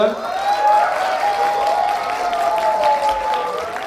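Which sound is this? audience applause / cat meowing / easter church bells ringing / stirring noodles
audience applause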